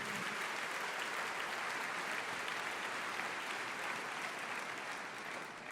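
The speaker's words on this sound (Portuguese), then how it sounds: "aplauda ao Senhor, meu querido" A church congregation applauds steadily and densely throughout, a continuous wash of many hands clapping at close range with no voices standing out.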